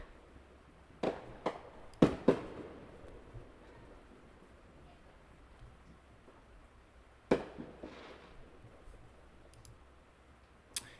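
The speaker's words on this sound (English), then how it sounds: "There's some fireworks going on. I could hear it right now," Scattered sharp pops and bangs from fireworks, a few isolated blasts in quick clusters with quiet gaps between, sounding somewhat distant.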